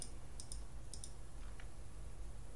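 Calculator keys being pressed, a few crisp plastic clicks in quick pairs followed by a couple of softer taps, close and quiet in an otherwise still room.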